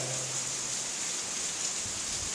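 Steady rain falling outdoors, a dense, even hiss of drops on surfaces that fills the whole moment, close and constant with no voices.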